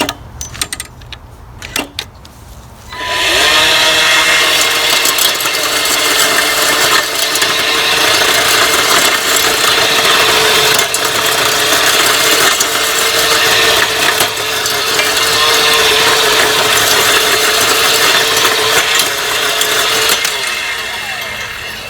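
A Greenworks 10-inch 40V lithium G-MAX cordless cultivator starts up with a few clunks, then whirs and grinds steadily as its tines churn through very dry, untilled soil, loud and continuous close by.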